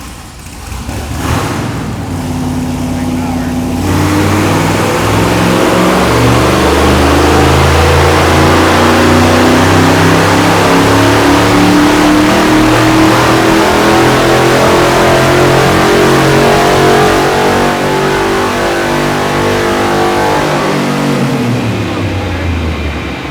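A V8 LS-swapped Mini Cooper drift car revs hard on a dyno, its engine note rising steadily in a long sustained pull before dropping off at the end, loud and close throughout.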